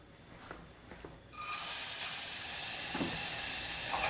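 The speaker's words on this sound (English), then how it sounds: "now we can just let our onions cook really nicely" Onions cooking in a pan for a burger topping: a steady, fairly loud hiss of frying begins after a quiet moment and carries on unbroken to the end.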